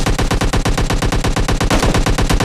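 Rapid automatic gunfire from PUBG Mobile Lite fires in an unbroken burst of about twenty evenly spaced, punchy shots over a couple of seconds, loud and close.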